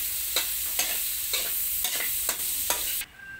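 Escabeche ingredients are stirred and mixed in a pan, six evenly spaced scraping strokes over a steady frying sizzle, close and fairly loud, ending abruptly.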